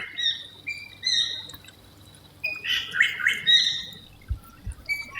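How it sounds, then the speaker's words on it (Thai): An oriental magpie-robin sings in a home garden, a few clear whistled notes followed by a busier cluster of chirps and squawks, fairly faint and set back, with a couple of soft knocks near the end. "นกกังเขนค่ะ"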